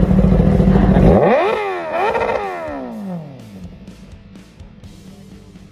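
A Kawasaki ZX10R superbike engine revs hard, climbing sharply in two quick blips and then dropping back to a lumpy idle, loud and close.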